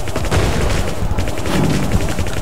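Dense, continuous gunfire from the Crispy Chicken video game, rapid automatic shots rattling loudly without pause through the whole moment, with no voices over it.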